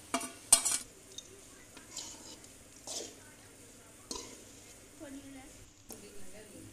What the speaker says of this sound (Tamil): அது சேர்த்து நல்லா எல்லாம் கலந்து வர மாதிரி விரட்டி விடுவோம்.